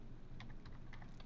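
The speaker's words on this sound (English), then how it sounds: "I'm just trying to type something in" Someone types on a computer keyboard, a brief close run of light key clicks that come in an irregular patter over a steady room hum, with no voices.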